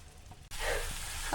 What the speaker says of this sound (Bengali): আদা বাটাটা দিয়ে দিব তারপরে একটু ভেজে নিই